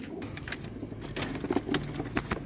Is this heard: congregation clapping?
no